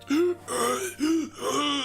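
A human voice imitates a wounded man wheezing and panting, with several strained, drawn-out gasping breaths at close range.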